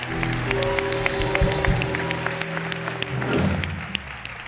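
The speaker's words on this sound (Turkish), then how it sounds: "Bir büyük alkış İlker Ayrık için." Studio audience applause on a Turkish talk show, a broad steady clapping under sustained musical tones from the band, swelling slightly near the end.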